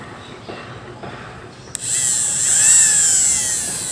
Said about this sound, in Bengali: আর হলো আমাদের ড্রিল মেশিন।